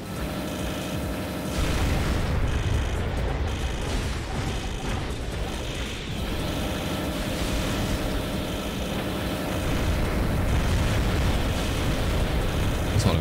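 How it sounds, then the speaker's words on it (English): Many explosions go off at once in the mech combat game Armored Core 2: Another Age, a dense, loud, rumbling wall of booming blasts layered over continuous roaring noise. "Explosions happening at once."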